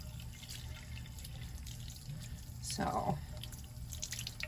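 Tap water runs and drips into a sink while a doll's hair is washed with shampoo, a faint trickle with a brief splash near the middle and a single spoken word at the start.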